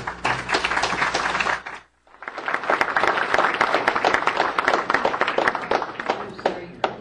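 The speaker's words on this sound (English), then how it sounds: "we hold the applause until both candidates have an opportunity to speak" An audience at a candidates' night claps loudly and steadily, breaking off briefly and then swelling again into dense, sustained applause close by.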